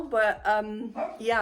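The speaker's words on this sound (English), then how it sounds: "that's my dog." A dog barks several times indoors, short close yips and woofs in an uneven rhythm, overlapping with a person speaking.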